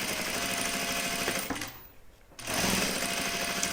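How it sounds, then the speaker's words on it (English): A sewing machine stitches a seam close to the edge of a fabric and vinyl zip bag with binding, a loud, fast mechanical whir that stops for about a second mid-clip, then resumes. "And just stitch this down inside the seam allowance, so really close to the edge."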